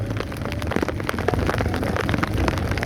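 Steady rain falls outdoors during a rising flood by a river in Barangay Llano, North Caloocan, making a dense, continuous hiss of drops close by, with low rumbling underneath and no voices.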